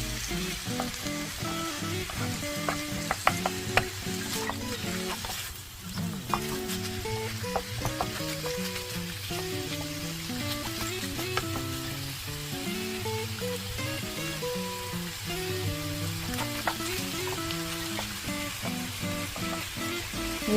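Pork hind leg stir-fries in a pan for gochujang bulgogi, an even close sizzle running steadily throughout while melodic background music plays over it.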